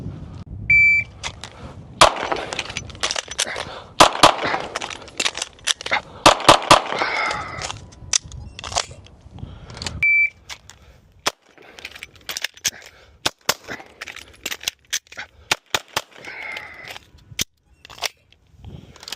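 Sharp, loud pistol shots from an ARC Division Reactor Glock 17 at a shooting range, fired in fast strings with brief pauses between them, each crack close and abrupt, with faint beeps and clatter in the gaps.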